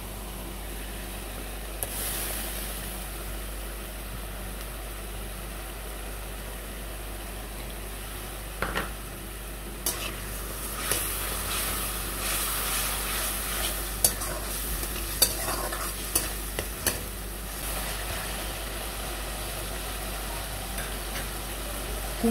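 Ground ginger paste fries in a pan, with a soft steady sizzle and scattered sharp clinks and scrapes from stirring, close by and without speech.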